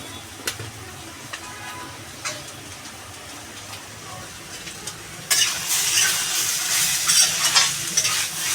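Mustard oil in a small pan for a Bengali tempering: quiet kitchen clatter and a few clinks at first, then a sudden loud, crackling sizzle that keeps spitting unevenly to the end.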